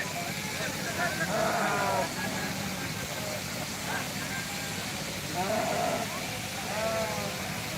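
Several sheep bleat in wavering cries, some close and some farther off, over a constant low engine-like rumble and people talking, at a sheep shearing ceremony.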